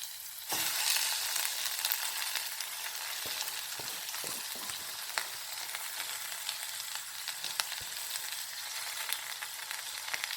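Drumstick leaves sautéing with onion in a pan, a steady bright sizzle and crackle running throughout with a few clicks of stirring, no voices.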